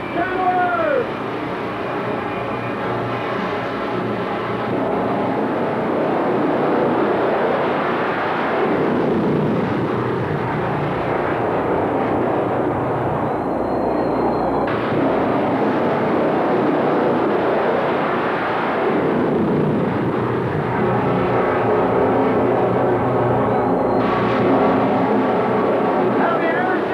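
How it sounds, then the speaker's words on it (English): A jet-powered Kenworth truck races down a drag strip before packed grandstands. Its jet engine roars loud and unbroken for the whole stretch, with a rising and falling whine, and a voice talks over the din. "Because here comes Bob Moose Jet Kenworth."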